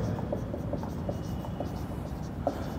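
A marker or chalk writes on a classroom board during a biology lesson, making short, faint scratching strokes at an irregular rhythm over a quiet room hum.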